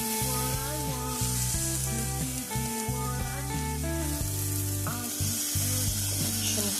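Tomatoes hitting hot oil in a pan while cooking Andhra nethali (anchovy) semi-gravy, a steady loud sizzle and frying hiss throughout, with background music playing over it.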